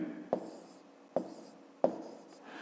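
A pen writes numbers on paper during a fifth-grade multiplication exercise, three short distinct scratches spaced apart, close and quiet.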